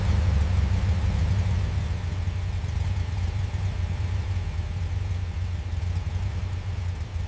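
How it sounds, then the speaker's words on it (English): A restored tow truck engine idles steadily with a low, pulsing exhaust rumble, close and constant throughout without any talk. "then settles into a smooth, rhythmic idle, a triumphant rebirth"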